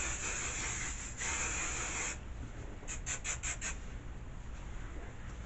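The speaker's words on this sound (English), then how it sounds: "now we have to use a lot of hairspray" Hairspray hisses from an aerosol can in two long, loud sprays, followed by a quick series of short bursts.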